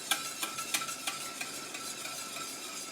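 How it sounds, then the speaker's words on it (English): A whisk beats hollandaise sauce in a pan with regular quick scraping strokes, each a soft clink against the metal, evenly spaced and fading slightly toward the end, quiet and close with no talk. "when the whisk goes through the sauce, it doesn't leave any streaks"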